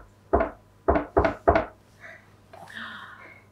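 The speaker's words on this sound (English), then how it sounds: "but there came another knock on the door" Four hard knocks on a wooden door, one then a quick group of three, loud and close, followed by a faint, soft voice.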